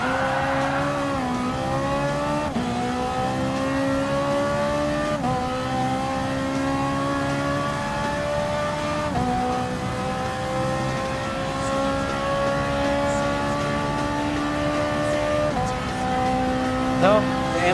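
A Ferrari 458 Italia GT3 races in Gran Turismo Sport, its engine droning steadily and climbing in pitch through repeated upshifts, with other cars heard nearby throughout.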